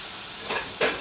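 Onion sautéing in a pan for a home-style shev bhaji gives a soft steady sizzle and hiss, with two brief louder spurts of frying as the pieces are stirred.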